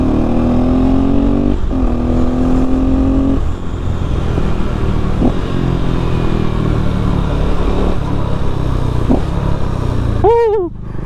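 A KTM 390 motorcycle loud and close, its engine note stepping down through a series of downshifts with rev blips, then a sharp rising rev near the end, at a biker meet in Shillong.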